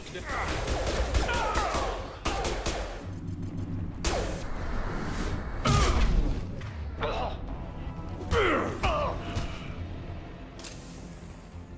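Gunfire and explosive bursts rattle through a Mass Effect 2 firefight, with repeated shots, thuds and whooshes, and voices talking over the combat.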